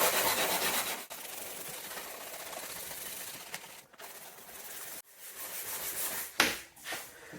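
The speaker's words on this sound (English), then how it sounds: "So once again, sanding block," Hand sanding of fiberglass filler on a salvaged Aston Martin DB7 V12 wing, using a sanding block with 120-grit Abranet mesh cloth: a steady, close rasping rub in continuous strokes with a few brief pauses.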